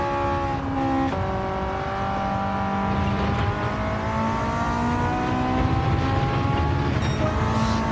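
Race car engine in Gran Turismo 7 holding a steady, loud drone as it laps the track, pitch rising and falling with gear changes and speed, continuous throughout with no talking.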